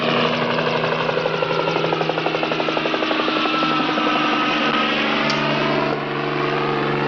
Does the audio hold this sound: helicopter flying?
yes